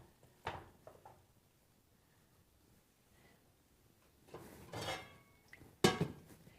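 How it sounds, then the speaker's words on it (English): Crumbly homemade farmer's cheese is tipped from a container into a bowl, giving a few faint kitchen knocks and clinks of dishware, with one sharper clink near the end in a quiet room. "maybe I'll just capsize it right into the bowl I have here"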